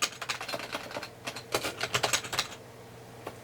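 Rapid keystrokes on a computer keyboard, typed into a search bar while troubleshooting a stereo mic, come in quick uneven bursts, close and fairly loud, then thin out to a single tap near the end, with no talking.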